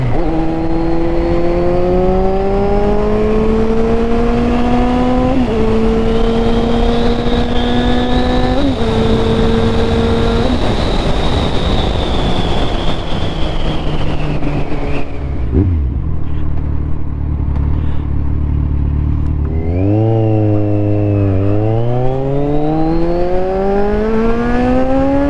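Kawasaki Z1000R motorcycle engine up close, loud and continuous as it accelerates through several gear changes, the pitch climbing then dropping, easing off before revving hard again near the end.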